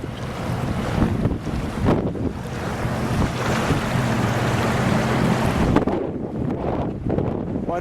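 The Colorado River running at high flow between stones below the Grand Canyon, a loud steady rushing wash with heavy gusting wind buffeting the microphone throughout.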